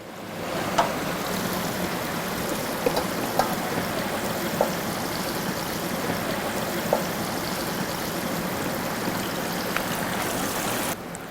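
Marinated quail fries in hot oil, a dense continuous bubbling sizzle with a few sharp pops scattered throughout, steady and fairly close.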